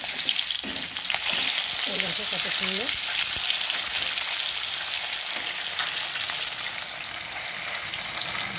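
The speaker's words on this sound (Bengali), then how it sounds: "মাছটা একটু ফাঁকা তেলে না ভাজলে ভালো লাগে না" Pieces of mrigal fish frying in hot oil give a steady, close crackling sizzle with a few clinks of a turning utensil, while someone briefly speaks over it.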